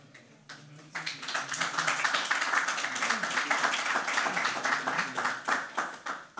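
An audience at a BSides Cape Town 2023 security conference talk breaks into sustained clapping that starts abruptly and holds steady at moderate volume, dense and even, with faint voices underneath before it begins.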